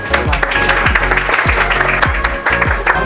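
Audience applause at a comedy stage play in a theatre: dense, loud clapping from a crowd that continues steadily the whole time, with rhythmic low thumps of a beat underneath.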